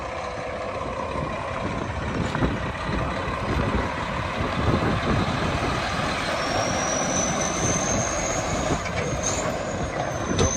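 A 2007 Mack Granite CTP713 truck drives in a wide circle around a parking lot, its heavy engine rumbling steadily and close, with a thin high whine rising partway through.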